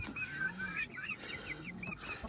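Chicks cheep in rapid high chirps while hens cluck low beneath them, a busy, close flock sound with no talking.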